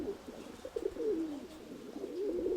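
A pigeon hen, being held in the hand, coos in a steady low warbling run for several seconds, close and moderately loud with faint background hiss.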